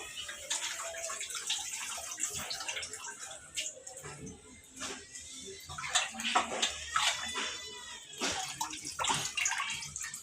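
Vegetables and green chillies are washed in plenty of water, giving a close, continuous splashing and sloshing with uneven surges and a few brief pauses.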